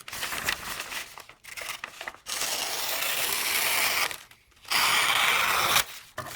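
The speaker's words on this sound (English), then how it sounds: "It cuts the fine paper really well." A Sanrenmu 7076LUX-GKJ folding knife slicing through fine paper, giving loud crisp rasping and crinkling strokes in several long passes separated by brief pauses, with no talking.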